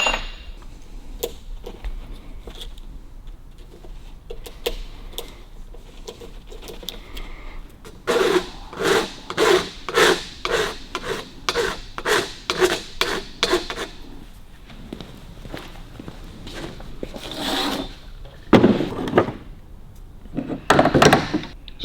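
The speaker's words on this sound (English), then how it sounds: "pipe cutter." Pipe cutter working around steel brake line tubing on a 1954 Ford Mercury Monterey Sun Valley, giving a run of close, regular clicking and scraping strokes that build after a quieter start, with a few louder knocks near the end.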